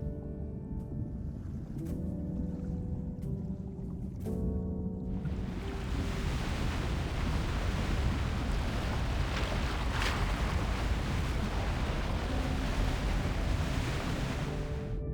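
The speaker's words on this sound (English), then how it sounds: "It's the waves. They're just too strong." Strong ocean waves in a video game story scene, a broad rushing surf that swells in loudly partway through and keeps roaring steadily, with wind-like hiss and faint musical tones beneath, no voices.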